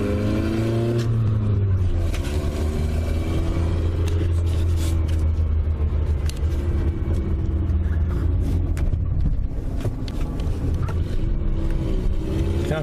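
Inside a newly bought car being driven on the road, a loud steady engine drone and low rumble with shifting pitch as it accelerates, no talking.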